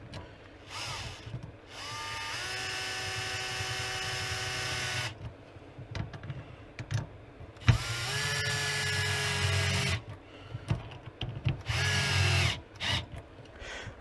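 Power drill driving screws while an Osmotech Ultimate Plus reverse osmosis unit is mounted, heard as several separate whining bursts of a few seconds each, loud and close, with short pauses and some handling clatter between runs.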